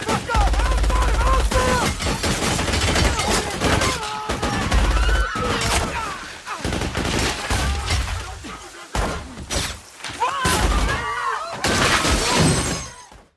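Bursts of rapid gunfire and crashing, shattering glass ring out in a slow-motion hallway shootout from the Max Payne movie, loud and dense, interrupted by short quieter gaps and a dramatic score.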